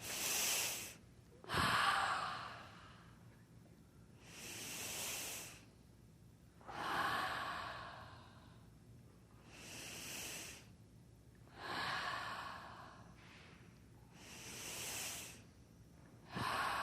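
Slow, deep breathing during an energy medicine exercise, with close, quiet airy inhales and exhales repeating in a steady rhythm every two to three seconds, and no talking.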